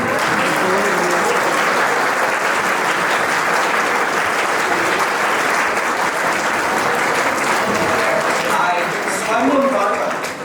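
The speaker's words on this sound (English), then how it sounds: "Let's give them a big round of applause and welcome them." Sustained audience applause at a Labour Day school event at St Joseph's College, Nainital, a dense wash of many hands clapping for several seconds with faint voices underneath.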